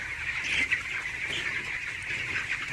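Eighteen-day-old broiler chickens fill a poultry farm shed with a continuous, dense chorus of chirps and cheeps from the whole flock, moderately loud and close.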